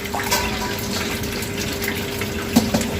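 Water pours steadily into a cooking pot for a home-cooked dish. The stream is a continuous, moderately loud splashing flow with no talk.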